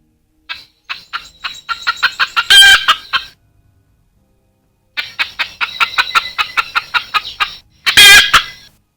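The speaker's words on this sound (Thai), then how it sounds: "เสียงไก่ในเหลา ที่อยู่หลังบ้าน ใกล้ๆกับแปลงผักของป้าฟอก ก็ส่งเสียงร้องกระตากกระตาก พร้อมกับตีปีกผึบผับ" Chickens in a coop behind a house near a vegetable plot give rapid, loud, close rhythmic clucking in two bursts, each ending in a sharp squawking flurry of flapping wings, with a quiet pause between.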